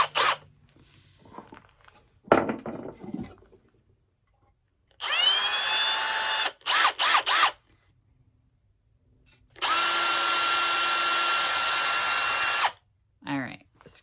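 A power drill drives a screw into material in a small enclosed room, with two separate bursts: a short stuttering run of whirring, then a longer steady high-pitched whine, amid brief clatter and handling noise.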